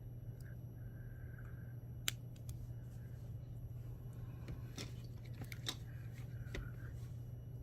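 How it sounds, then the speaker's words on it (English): Small cutters snipping excess beading wire off a Celtic knot anklet, giving a few faint, sharp clicks and snips spread across quiet background hiss, close up with no talking. "Cut this extra wire off here."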